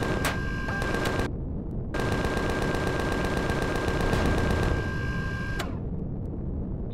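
A gun-armed drone firing in the video game Empyrion, rapid mechanical bursts of repeated shots in two long volleys separated by a short pause, with a steady whine running beneath.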